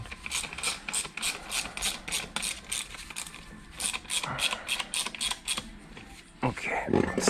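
Rapid ratchet clicks in repeated bursts as a wrench tightens the strut mount bolts on a VW Passat wagon's suspension, close and steady, with brief pauses between runs.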